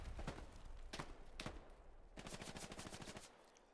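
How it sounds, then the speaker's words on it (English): An MG42 machine gun fires in a video game, with a few separate shots followed by a rapid, rattling burst, distant and fairly faint. "Machine gun MG42 doing some work by Toby Jones."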